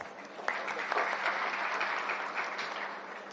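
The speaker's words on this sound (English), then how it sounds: "Please welcome all our panelists on the stage with a round of applause" Sustained applause from a conference audience welcoming panelists to the stage at a technology policy event, a dense, even wash of clapping heard from a distance, with a few sharper claps standing out.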